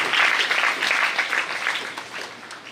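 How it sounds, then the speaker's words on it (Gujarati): Audience applause at a school pratibha award ceremony in a Gujarati village, a dense steady crowd of clapping hands sustained throughout, loud and close with no talk. "જોરદાર તાળીઓ થઈ જાય, એક સાથે તાળીઓ થઈ જાય."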